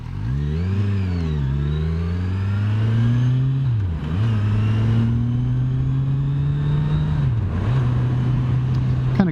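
A 2018 Kawasaki Ninja 1000 motorcycle engine drones close and loud while riding, its pitch climbing through the gears with a few dips at the shifts, under steady wind rush and with no talking.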